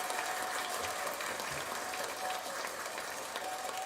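Steady applause from an audience, a dense even patter of clapping that runs without pause, fairly quiet and distant.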